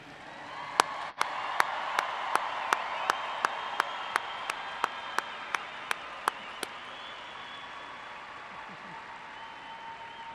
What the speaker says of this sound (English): how about we give one last huge round of applause for the class of 2020